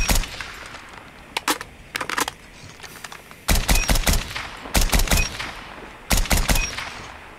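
Bursts of SKS rifle fire in Call of Duty Mobile ranked play, loud sharp shots in quick groups of three to five with brief pauses between volleys, no talk.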